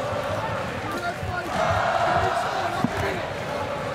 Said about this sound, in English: And his crowd